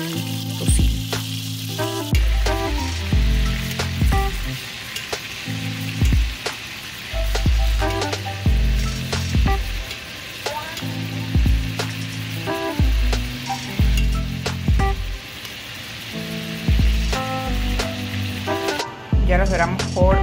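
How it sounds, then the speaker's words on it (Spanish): Stew beef searing in bacon fat in a pan, a loud, close, crackling sizzle that swells and eases as pieces are turned, with low-pitched utensil knocks throughout. "La carne de estofado la voy a sellar en el mismo aceite que freímos el tocino."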